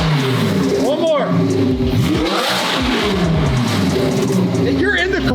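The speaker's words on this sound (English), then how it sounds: "He did a burnout on the ramps." A carbon McLaren Senna in race mode does a burnout on ramps, its engine roaring and revving loud and close throughout, with people talking over it.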